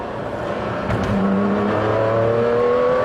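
Sports car engine on a road drive, revving up as the race mode is engaged, a steady close engine drone that climbs in pitch over a few seconds, no voices.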